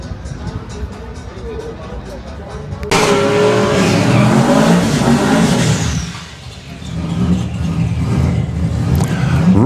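Drag-race street car launching down the strip at Santa Pod Raceway, a loud engine roar bursting in and sustaining, dipping briefly, then surging again, with an announcer talking over the early part.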